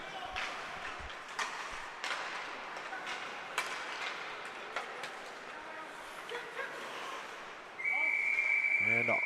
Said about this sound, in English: And an offsides whistle.